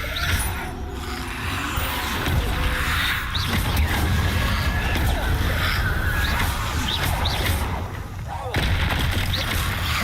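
Confringo and Incendio spell blasts from the video game Hogwarts Legacy burst out repeatedly in quick succession, loud and booming over a dense, continuous rumble of in-game action, with a voice occasionally heard.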